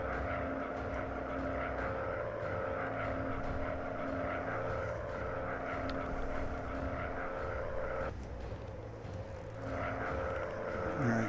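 A WW1 fighter plane in a flight-sim video game drones steadily as it takes off and climbs, a continuous loud engine and propeller hum with a brief dip and shift in tone partway through.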